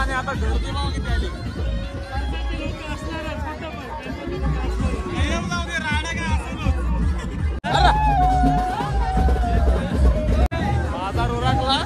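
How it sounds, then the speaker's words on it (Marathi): Dense crowd chatter and hubbub at the Aagrav jetty during a traditional sailboat race on the Konkan coast, many voices overlapping continuously with occasional laughter, loud and close throughout. "आता गर्दी बघा किती आली"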